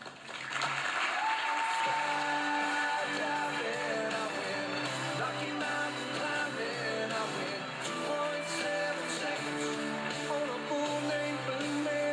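Sustained applause from a crowd, steady and loud, clapping continuing without break for several seconds.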